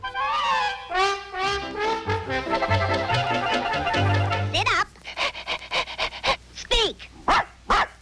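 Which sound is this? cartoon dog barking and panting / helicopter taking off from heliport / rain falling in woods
cartoon dog barking and panting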